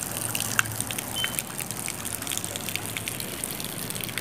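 Fresh spring water gushes and trickles steadily at a riverside bathing ghat on the Alaknanda river in Kirtinagar, a continuous near wash of flowing water with no one talking.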